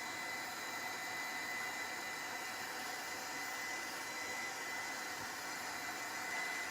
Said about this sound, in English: I will dry it a little bit more so you can see the result.